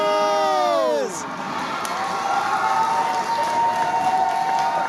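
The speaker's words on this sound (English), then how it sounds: "The sound of that crowd elated with a goal from the number 10, Saiko Sise" A stadium crowd erupts into a loud, sustained roar after a late goal in a Philippines Football League match between Manila Digger FC and Kaya FC in Iloilo. A brief falling tone opens it, and a steady horn-like note runs through the cheering.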